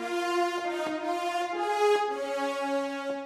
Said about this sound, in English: we're going to pull up the spot mics of Jasper Blunk's Bells Up Brass